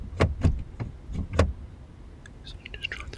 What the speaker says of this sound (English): This person then tried to open the van's sliding door.